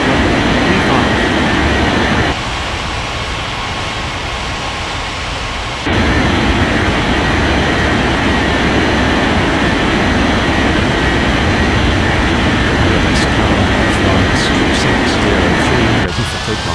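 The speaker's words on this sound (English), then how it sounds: "9715, cleared for takeoff runway 35" A jet airliner takes off in an Air Traffic Control video game: a loud, steady engine roar with broadband rushing noise that dips briefly and then returns at full strength, continuing throughout.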